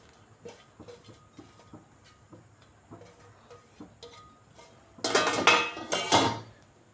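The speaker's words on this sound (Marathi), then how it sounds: "हा कांदा आहे चिरलेला तो याच्यात टाकायचा" Chopped onion tipped into a bowl of bhaji batter seasoned with soda and asafoetida, heard as a burst of wet clattering and scraping near the end, after quiet scattered clinks of a utensil.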